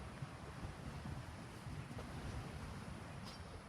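Ocean surf on a beach in Davao Oriental in the Philippines, a quiet, continuous rushing wash with wind noise on the microphone and no voices.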